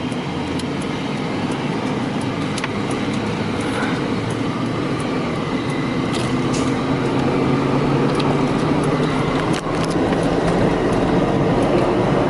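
A classic Mercedes W140 limousine, showing a check engine light with ASR and ABS codes, heard from inside as it drives: a steady, dense rumble of engine and road noise running throughout, with occasional faint clicks.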